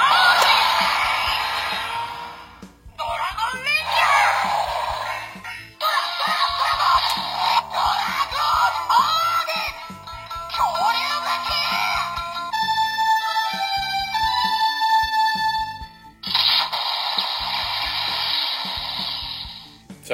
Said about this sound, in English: So that was the sound from the Dragon Dagger